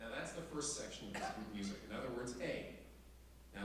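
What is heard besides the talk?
No everyday noise stands out behind the speech.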